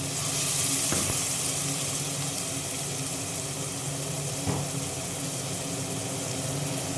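Cumin, ginger and chilli paste sizzling in a pan with tomato, a steady close hiss of frying with a couple of faint clinks, no speech.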